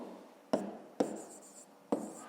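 Three quick pen strokes tap and scratch on paper while an answer to a fifth-grade maths exercise is written down, each a sharp attack fading into a short scratch, close and quiet.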